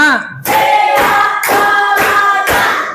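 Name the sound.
class clapping hands in counted rhythm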